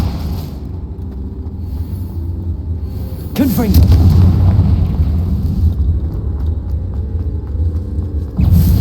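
A loud Confringo fire-spell blast goes off in the Hogwarts Legacy video game. A sharp boom is followed by a long, heavy rumble that gradually fades, and a second thump lands near the end.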